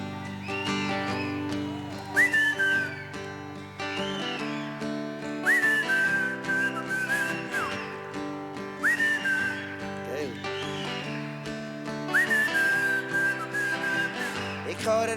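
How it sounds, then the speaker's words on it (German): A live concert crowd in a large arena whistles a simple melody together in repeated rising phrases, loud and full, with a strong sustained tonal backing underneath. "Jetzt müssen wir zuerst zusammen ein bisschen lernen pfeifen."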